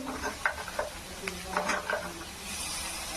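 A spoon stirs oats khichdi with salt, chili powder, chaat masala and turmeric in a pan, giving soft scraping strokes over a low sizzle, close and quiet.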